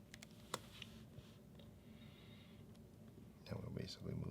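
Quiet, scattered keystrokes and clicks on a computer keyboard while entering label text in label-printer software, in short bursts with a few louder taps, under a speaking voice.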